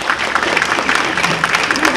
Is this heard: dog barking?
no